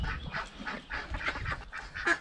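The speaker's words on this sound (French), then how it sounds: "Et alors cette canne, la petite là, qu'est-ce qu'elle est bruyante" A small female duck quacks loudly and repeatedly on a poultry farm, a run of close, harsh honking calls in an uneven rhythm with no talk over them.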